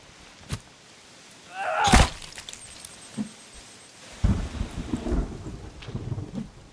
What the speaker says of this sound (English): What I tell you, we're gonna get some rain.